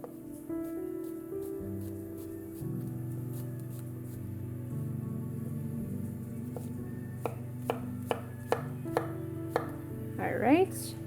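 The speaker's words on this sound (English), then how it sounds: "So we're just gonna cut into medium pieces." A knife chops zucchini into medium pieces on a cutting board while making classic minestrone, sparse quiet cuts that turn into several sharp, close knocks near the end, with a low hum and no talk.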